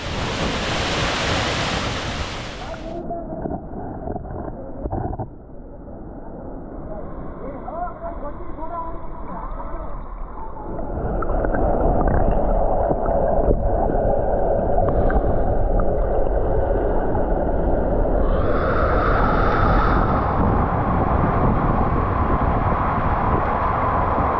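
Spray from Vibhuti Falls makes a continuous rushing hiss and roar that grows louder and fuller partway through, heard up close with people talking at times.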